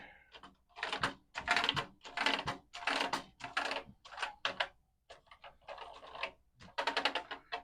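A magic eraser rubs in repeated short bursts across the key tops of a dusty, rusty Commodore PET 2001 keyboard, with rhythmic scrubbing strokes and faint clicks as it catches the keys, close and fairly loud with no talking.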